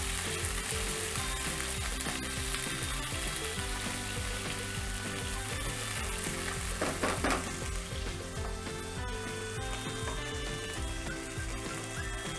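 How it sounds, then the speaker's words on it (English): Beef strips searing on a very hot pan for a beef chow mein, a loud continuous close sizzle and crackle that holds steady throughout with a brief flare of spattering in the middle. "Just place it on the pan and then just leave it for about 20 to 30 seconds to sear."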